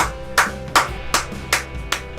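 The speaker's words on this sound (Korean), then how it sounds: "야 박수" About five sharp claps come in a quick even series, close and crisp, at a billiards match after a player's shot.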